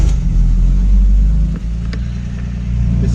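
A BMW E30 engine starts with a loud low rumble and settles into a steady idle with a few throttle blips, heard up close and with no talking.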